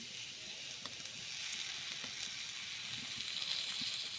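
Oil sizzling in a hot pan holding onions while a dhapati meal is cooked, a soft, even hiss that swells slightly midway and continues with faint crackles and stirring clicks, no voices.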